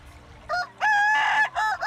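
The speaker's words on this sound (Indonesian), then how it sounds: "Ciri khas ayam kukuak balengge adalah suara kokoknya yang merdu dan bertingkat-tingkat sampai 24 tingkat" A Kukuak Balenggek rooster from Solok, West Sumatra, crows a melodious, multi-stepped call in several close, loud bursts, with a long sustained middle note.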